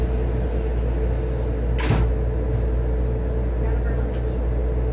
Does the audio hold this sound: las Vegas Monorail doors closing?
yes